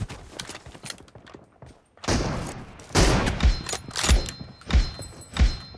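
Gunfire in the mobile battle-royale game PUBG Mobile: a run of loud, close shots and sharp thuds, sparse at first and then heavy repeated bursts, with no talking.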